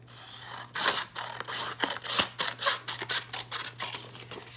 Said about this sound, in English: I can take my scissors and cut just that part out.